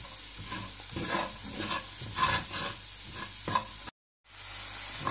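Onions sizzle and fry steadily in a pan while being cooked down toward golden brown, with occasional stirring scrapes over the constant crackle and a brief cutout near the end.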